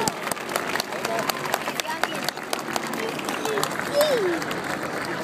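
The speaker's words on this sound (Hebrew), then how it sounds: "איפה מחיאות כפיים למופע המדהים הזה?" Scattered applause from a large outdoor crowd at an air force wings-ceremony air show, following a helicopter display, rising through a steady broadband wash of crowd noise with distant voices mixed in.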